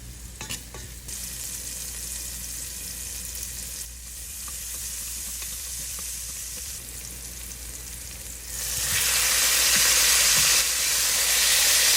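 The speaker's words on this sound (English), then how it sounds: "Add the garlic to the pan you used to fry all the meat. My fire is on high heat now." Garlic fries on high heat in a pan that was already used for meat. It gives a steady sizzle with stirring scrapes, and the hiss grows much louder and brighter near the end.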